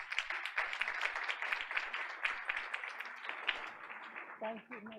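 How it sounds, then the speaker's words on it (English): Audience applause welcoming a speaker forward at an evening Board of Education meeting, a steady wash of many hands clapping for about four seconds, fading as a voice begins at the end. "Let's welcome her with a big round of applause."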